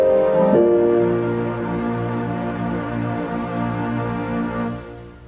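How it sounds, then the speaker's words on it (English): Several synthesizers, all triggered from one controller keyboard, swell together into a dense, sustained chord wash that holds steady, then fades toward the end. "every sound you hear is being triggered by the master controller keyboard"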